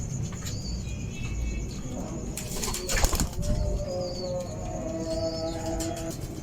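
A large, aggressive male pigeon coos in a few soft, low, rolling bursts among other birds, with faint chirps and a brief flutter in an ongoing outdoor hum.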